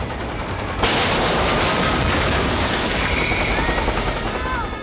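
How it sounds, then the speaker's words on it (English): A big steel rhino prop rammed through a wall on a film set: a sudden loud crash that turns into a sustained roar of breaking and rumbling debris for several seconds, close and dense. "the effects guys actually built a big steel rhino and rammed it through that wall for us"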